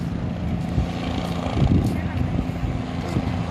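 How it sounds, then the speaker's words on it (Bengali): Steady low rotor and engine drone from a helicopter landing at an air force museum, loud and continuous throughout, with faint voices mixed in. "দেখুন একটা হেলিকপ্টার এখন নেমে যাবে"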